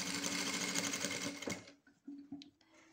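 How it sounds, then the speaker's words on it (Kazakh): A sewing machine runs fast and steadily for about a second and a half, stitching tape onto a curtain, then stops, leaving a few faint handling clicks and soft noises close by. "Және төменге қарай тігемін."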